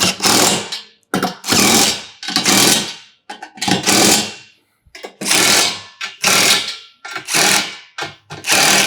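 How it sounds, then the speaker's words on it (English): A power drill whirs in short repeated bursts while mounting a urinal carrier, about eight on-off pulses in a fairly even rhythm, close by and loud. "Grab my favorite drill."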